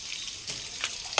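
Tap water splashes and hisses as it pours onto a dog sitting under the faucet, a steady close spatter with a few sharper splashes and no talking.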